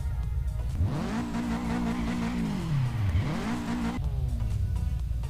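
A Lamborghini Huracan in a GTA San Andreas mod revs hard, its engine note climbing, dipping and climbing again before cutting back to a lower tone, loud and close, with faint tire-squeal hints and no talking.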